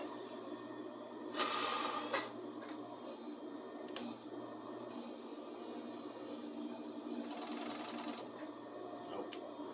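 Serger sewing machine running during threading, a steady mechanical hum with a brief louder whirring burst early on and another stretch of faster stitching later, close and moderately quiet.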